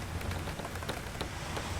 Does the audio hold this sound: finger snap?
no